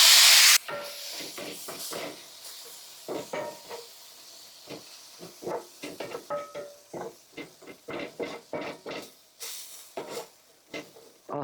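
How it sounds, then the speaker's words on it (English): Broth hits a very hot cast iron skillet, opening with a loud hiss of sizzling steam, then a long run of close, irregular scraping and stirring clatters in the pan. "I'm going to add a little broth to make sure we get all that goodness."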